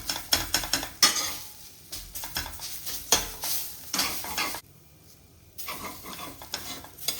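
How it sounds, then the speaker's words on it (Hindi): A radish paratha filling of grated mooli with roasted besan is stirred and fried in a pan, spoon scraping in quick rhythmic strokes over a soft sizzle, close and fairly loud, with a brief quiet pause midway. "अब इसे अच्छे से मिक्स करेंगे। तो बिल्कुल अच्छे से इसे मिक्स कर फ्राई कर लेंगे।"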